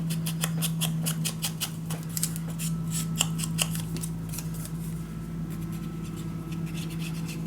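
Scissors snip paper for a scrapbook mini album, a quick run of sharp, close cuts in an irregular rhythm over a low steady hum, with no voices.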